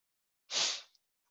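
A single short, breathy sneeze, sharp at onset and trailing off within about half a second, close and alone in an otherwise quiet room.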